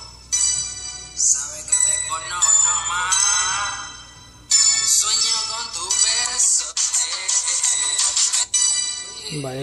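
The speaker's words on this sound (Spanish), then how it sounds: "aquí está sonando el teléfono" A phone ringtone plays as a looping electronic melody, fairly loud and close, in bright repeated phrases with brief gaps between them.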